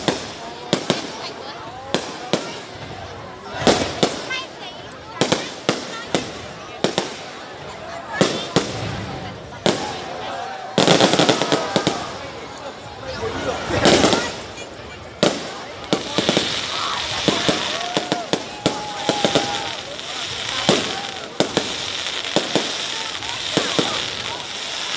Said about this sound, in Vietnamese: hiện tại chỉ có pháo hoa thôi